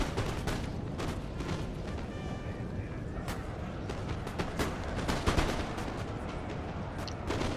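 Musket volleys in the Napoleon Total War video game, a dense crackle of distant shots popping irregularly over a constant battle rumble, with no speech.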